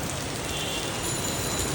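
Steady rain pours down close by, a thick even patter and hiss that holds constant throughout the short stretch.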